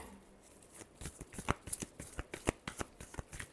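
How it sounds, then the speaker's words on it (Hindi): A deck of tarot cards is shuffled by hand in a quick run of crisp, close riffling flicks that grow denser after the first second. "लिब्रा के लिए लास्ट शफल"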